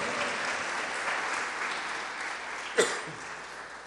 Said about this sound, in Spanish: Fuerte las palmas al Todopoderoso.